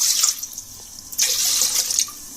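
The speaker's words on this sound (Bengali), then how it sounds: "আমি এখানে পানি দিয়ে দিয়েছি।" Water poured into flour for dough, a close splashing trickle that swells, briefly pauses and resumes, with no one talking.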